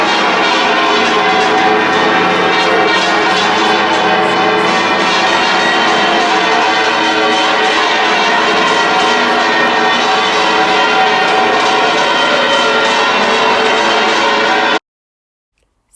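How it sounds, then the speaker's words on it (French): Large cathedral bells of Seville Cathedral ring out continuously with dense overlapping tones, loud and resonant, until the sound cuts off abruptly near the end. "un extrait de vidéo qui permet d'entendre le tintement des cloches"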